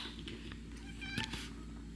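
A house cat gives a single short, clear meow indoors, moderately close, over a quiet steady background hum.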